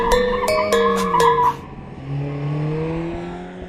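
A Mercedes-AMG A45 drifts with its tyres skidding, a loud rhythmic squeal and scrabble up close that fades into a lower engine drone as the car straightens out.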